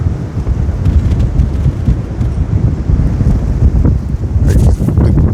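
Strong gusty wind buffets the microphone outdoors with loud, continuous low rumbling and roaring, and leaves rustle faintly.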